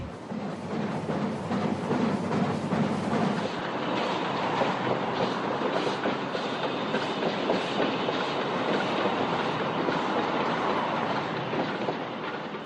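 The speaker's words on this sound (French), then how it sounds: "Le train à vapeur poursuit son chemin à travers la vallée de l'Urola." A steam train runs through the Urola valley in the Basque Country, its wagons rolling with a steady clickety-clack of wheels on rails, loud and continuous throughout, with no voices.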